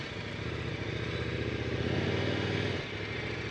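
An adventure motorcycle crawls slowly over a log at a riding rally, its engine holding a steady low, lumpy idle-like chug at close range, with a slight rise in throttle before it eases off near the end.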